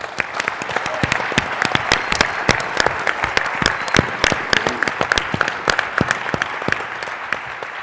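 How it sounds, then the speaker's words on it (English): Sustained applause from a lecture audience, many hands clapping densely and continuously at a steady level for several seconds, fairly loud with a few louder individual claps standing out. "please join me in giving them a round of applause"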